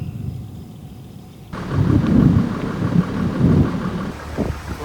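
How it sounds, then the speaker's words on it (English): Thunder rumbles in as a storm approaches during a fishing trip in Iowa, a loud, rolling low growl that swells a couple of times over faint steady background noise. "Bit of a storm coming in."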